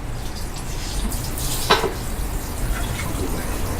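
Water running from a salon shampoo basin spray over a client's hair during washing, a steady close hiss with a brief splash in the middle.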